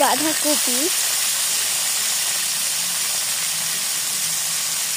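Cabbage frying with a little salt in a pan for vegetable khichuri, a loud continuous steamy hiss that stays even throughout, close up, with a short vocal sound at the very start.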